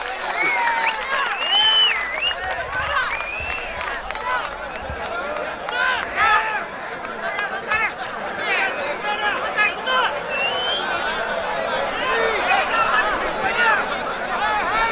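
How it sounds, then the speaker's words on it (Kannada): A crowd at a village jangi nikali kusti wrestling event in Ranna Belagali claps and cheers continuously, a dense loud wash of applause with voices calling and talking over it throughout. "ಇನ್ನೊಮ್ಮೆ ಜೋರಾಗಿ ಚಪ್ಪಾಳೆ ತಟ್ಟುವುದರ ಮೂಲಕ ಅಭಿನಂದಿಸಬೇಕ"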